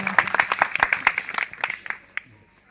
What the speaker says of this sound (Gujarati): બાપા તાળી પાડો